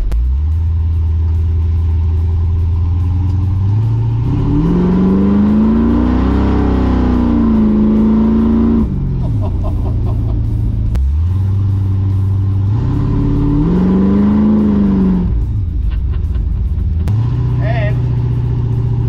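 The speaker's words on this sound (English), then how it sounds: "there's a cut-out switch for the exhaust underneath, so it becomes an open system" A loud, deep engine of a restomodded 1978 Ford F100 truck roars and revs repeatedly through an open exhaust via a cut-out switch, rising and falling in long surges with brief drops between.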